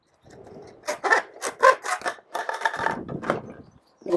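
A hand saw cuts through PVC pool plumbing pipe, sized from 50mm down to 32mm and 40mm, in a quick run of rough, rasping back-and-forth strokes, close and fairly loud with no talk.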